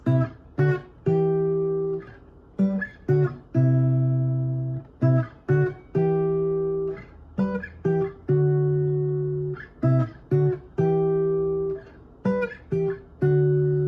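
Strummed acoustic guitar chords of a song verse repeat in a steady pattern, each strum ringing briefly before the next, clear and close with no singing.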